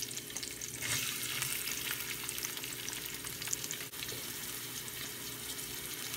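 Garlic and onion fry in a tablespoon of hot oil in a pan for spinach dal, a continuous, moderately quiet sizzle with faint crackles throughout.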